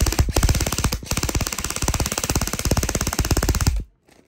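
An ICS DD MK18 airsoft gun fires full auto in one continuous burst of rapid, evenly spaced mechanical clicks lasting under four seconds, loud and close, then stops abruptly.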